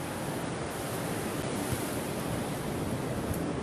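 Ocean surf rolls in at a beach beside a pier in Huanchaco, Peru, a broad, steady wash of breaking waves mixed with wind buffeting the microphone, no voices.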